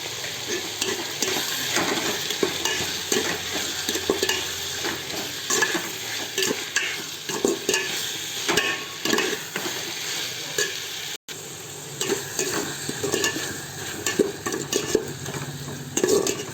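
Tomatoes sizzle steadily in a pan for Telugu gongura curry, with a spoon stirring and scraping throughout, a close, continuous fry with one brief break near the end.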